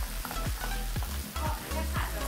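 Vegetables sizzle and fry in a hot pan while being stirred, a steady crackling hiss broken by a regular series of scraping strokes, close and alone without talk.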